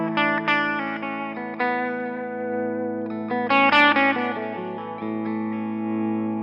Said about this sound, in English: you can still dig in and get that drive sound